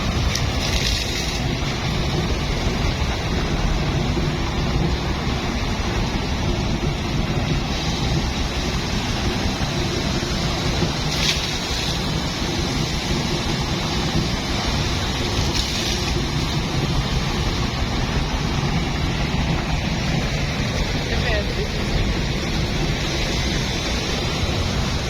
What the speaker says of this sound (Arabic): شوفوا بقى الميه ماشيه في الماسور